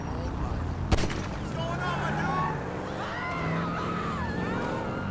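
Gunfire in Grand Theft Auto V during a motorcycle repossession mission, a sharp shot standing out early over busy game sounds, engine noise and voices talking throughout.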